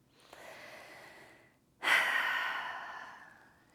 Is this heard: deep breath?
yes